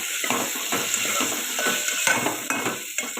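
A village-grown eggplant vegetable mixture is stirred in a pan, with steady scraping and light sizzling that continues throughout.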